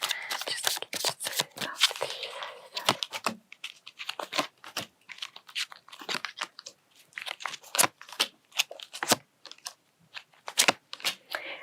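Rapid crisp riffling and slapping of tarot cards being shuffled, in repeated bursts with short pauses, close and fairly quiet.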